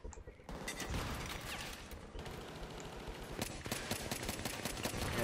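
Rapid bursts of gunfire in the video game Battlefield 3 during a co-op mission, dense automatic fire crackling almost continuously with brief gaps, loud and close.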